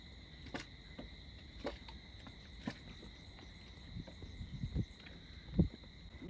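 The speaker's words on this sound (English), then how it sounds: "Can you hear the crickets or locusts, or maybe they're frogs actually," Steady high-pitched chirring of crickets or frogs fills the night air at a boat anchorage in Martinique, continuous and moderately loud, with a few soft knocks and splashes nearby.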